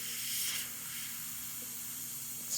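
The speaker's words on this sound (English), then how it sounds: "So I'm just gonna spray right on top of the lightning bolt, the yellow" Yellow paint hisses from an airbrush over a painted lightning bolt in a stormy sky, a steady soft spray close by with a brief louder burst near the start and another at the end.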